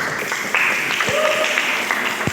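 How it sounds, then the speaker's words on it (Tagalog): A church congregation on its feet gives loud, steady applause, many hands clapping together in a dense, continuous patter with no one speaking. "Tumayo na po kayo pumalakpak ng malakas."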